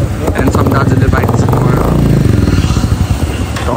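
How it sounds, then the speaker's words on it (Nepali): A motorcycle engine runs loud and close as the bike is brought out during a road trip through Mustang and Upper Mustang in Nepal, a steady throbbing rumble with rapid pulses throughout, with voices mixed in. "दाइले चाहिँ हाम्रो बाइक झिक्दै हुनुहुन्छ"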